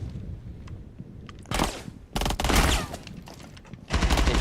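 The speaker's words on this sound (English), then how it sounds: "They trade shots, both miss" Rapid bursts of gunfire traded between players in Rainbow Six Siege, with dense overlapping shots in several loud close volleys separated by brief pauses.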